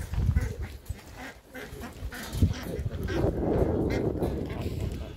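Geese of a German breed honking among a flock kept by a poultry keeper, with duck-like quacks mixed in; calls come repeatedly over a busy outdoor din, moderately close and fairly loud, with some background voices.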